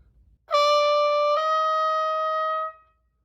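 A single sustained brass note, then a smooth slurred change to a lower pitch with no break, ringing clearly for about two seconds before stopping.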